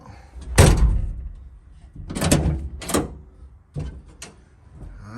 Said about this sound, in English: My door opens from the inside now.